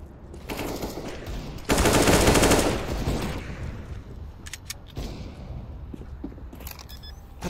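Desert Eagle pistol shots ring out in a Counter-Strike match on Overpass, sharp cracks among bursts of rapid automatic gunfire, with a loud dense volley near the middle and scattered single shots after.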